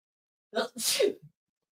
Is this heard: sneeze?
yes